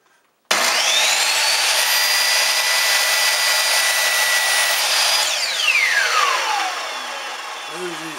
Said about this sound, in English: I usually start the saw off, then I go make the cut